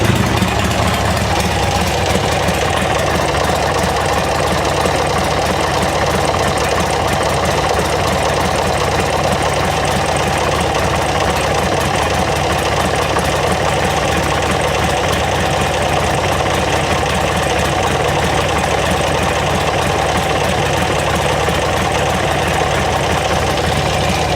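Repaired engine idling steadily and loud, a constant close rumble with slight knocking vibration and no voices over it.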